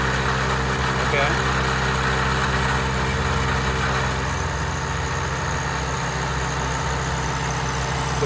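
Milling machine with a power rotary table running, a loud steady mechanical drone with a low hum throughout.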